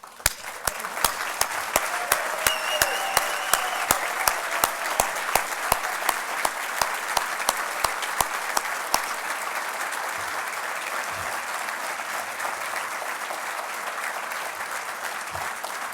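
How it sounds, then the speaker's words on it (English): A banquet audience at a Border Patrol recognition dinner gives sustained applause to standing agents, retired personnel and families, dense clapping that rings out for several seconds before thinning into murmuring room noise. "let's give them a round of applause"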